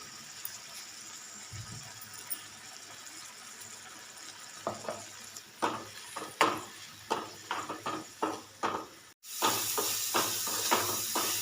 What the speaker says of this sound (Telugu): కొంచెం సాల్ట్ కారం వేసి వేయించుకుందామండి.